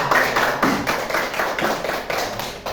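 A school class in Indonesia applauds their groups with a quick, steady run of close, overlapping hand claps that lasts nearly three seconds.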